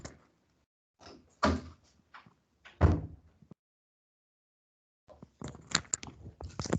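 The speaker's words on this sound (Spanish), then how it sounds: "permítanme cerrar la puerta aquí" An indoor door pushed shut, with a couple of soft knocks and then a firmer thud as it closes, followed by silence and rustling handling sounds; no talk.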